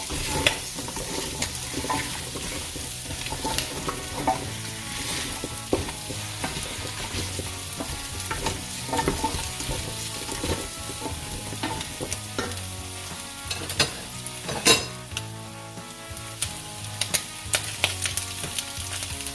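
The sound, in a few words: pumpkin frying and being stirred in a pan for korma curry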